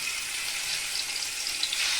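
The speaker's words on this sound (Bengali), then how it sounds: "তেলটা গরম হয়ে গেছে, মাছটা দিয়ে দিব।" Hilsa fish frying in hot oil in a home kitchen, a steady, close, broadband sizzle that runs unbroken and alone, with no talk.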